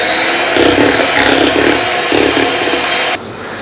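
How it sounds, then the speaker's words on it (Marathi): Electric hand mixer beating a custard ice cream base, a loud steady motor whir with a churning, pulsing texture that runs on and cuts off abruptly near the end. "तर आपण हे व्यवस्थित मिक्स करून परत एकदा बीट करून घेऊया।"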